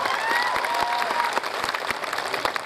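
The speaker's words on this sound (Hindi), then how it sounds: "ज्यादा तालियां बजानी पड़ेंगी आपको।" Audience applause at a poetry evening: dense, steady clapping from a crowd, fairly even for a few seconds and thinning slightly toward the end.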